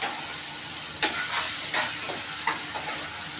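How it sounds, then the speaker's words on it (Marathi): Raw vegetables, green peas and tomato, sizzle in hot oil for a homemade egg curry, giving a steady frying hiss broken by several soft scraping stirs of the spatula in the pan. "आपल्याला चांगलं तेलामध्ये परतून घ्यायचं आहे।"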